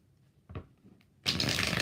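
Tarot cards shuffled during a yes/no reading: a few soft riffles and taps, then a loud, sustained dense flurry of card shuffling close to the microphone, with no talking.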